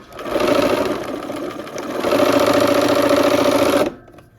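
A sewing machine runs steadily, stitching quilt pieces with a fast, even mechanical whir close up, pausing briefly once before continuing and then stopping.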